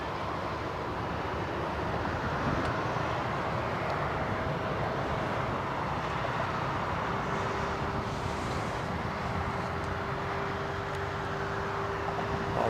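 A Boeing 787 Dreamliner arriving from Denver at an airport in Germany makes a steady, broad roar that holds at an even level throughout, heard from a distance with no talking.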